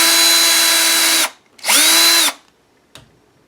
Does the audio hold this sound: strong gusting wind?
no